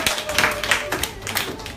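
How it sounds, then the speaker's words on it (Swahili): A congregation at a Bible study and prayer gathering gives the groom a short, lively burst of hand clapping, with a voice heard among the claps. "Hebu tupigie bwana harusi makofi makubwa."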